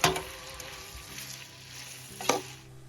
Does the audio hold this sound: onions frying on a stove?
yes